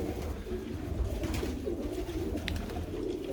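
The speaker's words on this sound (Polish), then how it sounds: "To z tych samych gołębi. Jego wypuściłem od razu, lata, grucha, chodzi." Soft, low pigeon cooing repeats over a dull background hum, faint and close by, with no one speaking.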